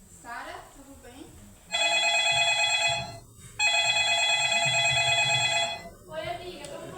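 Telephone ringing with a steady electronic ring in two long bursts separated by a short gap, fairly loud and close, with a voice talking briefly before and after the rings.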